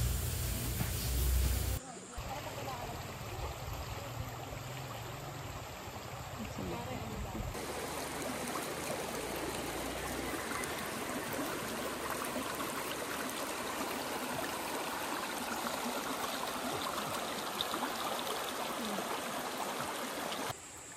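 A river at Moon River Campsite flows as a steady, broad rushing babble that continues unbroken throughout, with a brief louder burst at the start and some voices faintly present.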